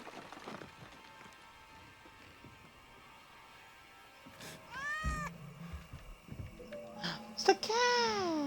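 A cat in the video game Indiana Jones and the Great Circle lets out two rising, wavering meows, the second longer and louder, over a quiet game ambience with brief low thuds.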